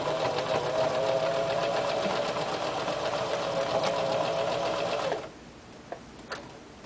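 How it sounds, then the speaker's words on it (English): A sewing machine stitches denim jeans in a steady, rapid mechanical clatter for about five seconds, then stops, leaving faint clicks and handling sounds in a quiet room. "I'll turn and stitch a little bit more."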